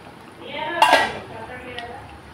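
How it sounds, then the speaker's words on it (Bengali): A lid goes onto a cooking pot of chital fish curry, a single quick metallic clink of lid against pot, fairly close and brief, in an otherwise quiet kitchen. "আরও 2 মিনিটের জন্য ঢেকে দিচ্ছি।"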